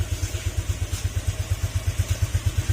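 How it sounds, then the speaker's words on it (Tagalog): Honda Click 150 scooter engine running with a steady, rhythmic low thumping pulse, close and continuous, after a cold start with the engine's tone turning sluggish. "At kung mapapansin niyo rin yung tulog ng makina, obserbahan niyo."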